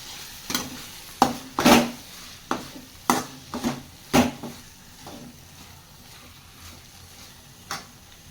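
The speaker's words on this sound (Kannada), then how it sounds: "ಸೊ ಇದೇ ಹಂತದಲ್ಲಿ ಹೆಚ್ಚಿಟ್ಟಿರ್ತಕ್ಕಂಥ ಹಾಗಲಕಾಯಿನೂ ಕೂಡ ಹಾಕ್ಕೊಳ್ತಾ ಇದ್ದೀನಿ" Chopped bitter gourd (karela) is stirred in a cooking pan for a palya. A spoon scrapes and knocks against the pan in irregular clattering strokes over a soft sizzle, with no talking.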